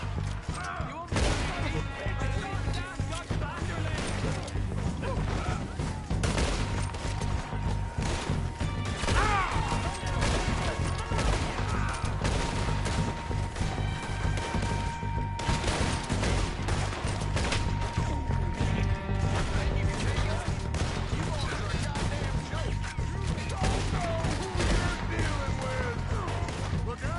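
Cannon blasts and gunfire fill a battle in the Red Dead Redemption 2 video game, with repeated crashing shots over a dense music score and shouted voices throughout.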